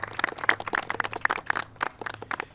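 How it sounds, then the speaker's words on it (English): Applause greeting a congressional delegation at a New York public event, a scattered patter of hand claps at moderate distance, steady for a couple of seconds with a low hum underneath. "A round of applause for them."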